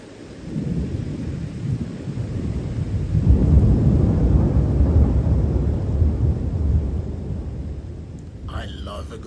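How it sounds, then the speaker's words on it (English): Thunder rumbles through a storm, a long low roll swelling in the middle and fading toward the end, with steady rain noise beneath and a brief voice near the close. "I love a good storm."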